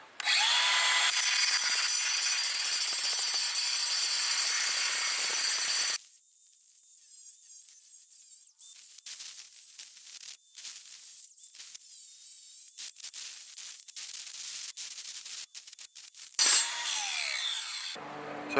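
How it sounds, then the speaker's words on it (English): Battery power tool grinding through a weld on a steel trailer tongue, a loud steady continuous cut at first, then a series of shorter bursts of cutting and scraping with brief pauses between. "So I'm gonna cut this weld, put a groove in it."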